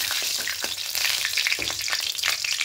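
Whole garam masala of cinnamon, cardamom and cloves frying in hot oil with two bay leaves, giving a close, steady crackling sizzle with small pops and an occasional stir.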